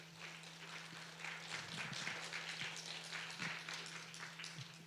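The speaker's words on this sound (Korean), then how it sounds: "나오실 때 박수 한번 쳐주셨으면 감사하겠습니다" A church youth congregation at a Sunday worship service gives a steady round of applause, many hands clapping in a dense patter at moderate distance, with a low hum underneath.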